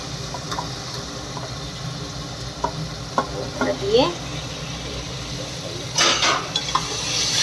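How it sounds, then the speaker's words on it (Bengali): Mutton dropping into hot spiced oil in a home kitchen pan, a steady sizzle broken by clinks and scrapes of stirring, with a louder hissing burst near the end. "এখন এই মাংসটা দিয়ে দিচ্ছি।"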